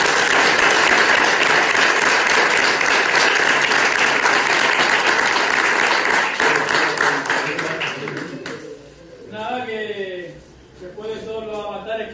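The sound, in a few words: applause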